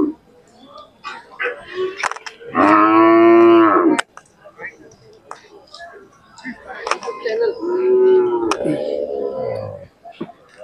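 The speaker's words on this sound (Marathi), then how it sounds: "किल्लार गाय पाहू शकता तुम्ही." Khillar cows at a village cattle market in Sangola, Maharashtra, give two long, loud moos, one early and a second softer one later, amid crowd chatter and scattered market noise.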